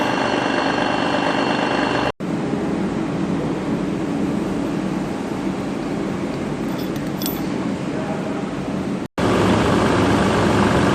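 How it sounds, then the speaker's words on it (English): A power drill with a 10mm bit drills through a bolt, running steadily with a continuous motor drone for several seconds, briefly cutting out twice. "I'm drilling it through first with a 10mm drill"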